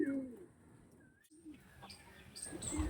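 Tournament-quality pigeons for sale coo softly in a loft, a few low throaty calls scattered across a few seconds amid quiet background noise.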